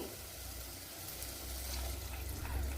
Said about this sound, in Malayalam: വെള്ളം ഒഴിച്ചു കൊടുക്കണം